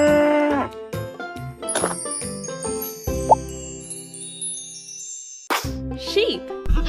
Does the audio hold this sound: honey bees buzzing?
no